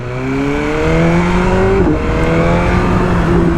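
A BMW M1000R motorcycle engine revs up hard on the throttle during a night ride, rising harmonic tones climbing steadily, loud and close, with continuous engine roar throughout.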